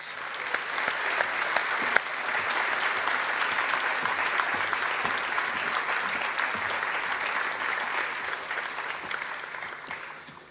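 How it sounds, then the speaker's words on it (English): A seated audience applauds steadily for panel members walking on stage at a community talk on electrifying everything in Greater Bendigo, a sustained even clatter of claps that fades at the end. "Can you give them a huge round of applause as they come out?"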